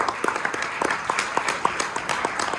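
Applause at a team sports banquet as the audience claps for the players' parents, fairly close, individual claps distinct in a moderate, uneven patter.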